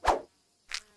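Two short buzzing bursts from flies, a rich louder one at the start and a thinner, higher one near the end, separated by silence.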